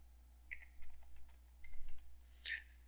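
Someone typing on a computer keyboard, a short run of soft, scattered key clicks with small pauses, then a brighter final tap, quiet and close.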